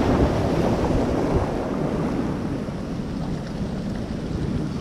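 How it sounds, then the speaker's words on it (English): Big ocean waves break on rocks along a coastline in a loud, continuous rushing roar, with heavy wind buffeting the microphone the whole time. "As you can see, the waves way out there are big enough to surf on."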